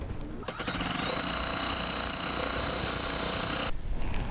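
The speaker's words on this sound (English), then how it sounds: "I'm going to lower the presser foot, I've threaded it up with orange thread, and green means go" An embroidery machine stitching with orange thread runs steadily with a rapid, buzzing mechanical chatter for a few seconds. It cuts out briefly near the end, and no one speaks.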